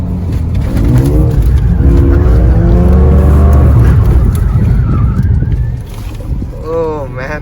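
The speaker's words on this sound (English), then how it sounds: "And over here we have a 310 horsepower car. This is a 4-cylinder engine" A 310-horsepower four-cylinder Mercedes-Benz car driving, its loud engine note rising and shifting through gears with a rushing roar, and people talking over it near the end.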